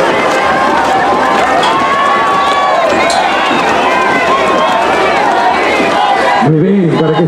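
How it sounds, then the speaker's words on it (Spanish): Dense crowd noise from spectators at a carnival street parade in Huancayo, a continuous loud wash of cheering and applause with mixed voices, ending with a brief clearer voice. "vamos a tributar el aplauso para esa linda pareja que está encima del carro."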